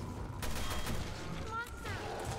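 Gunfire in the survival-horror game Resident Evil: Revelations 2, a string of rapid shots cut through by whooshing game effects, loud and dense for a couple of seconds with no one speaking over it.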